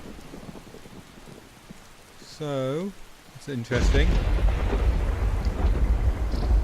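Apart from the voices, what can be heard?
pouring rain and thunder in the video game Skyrim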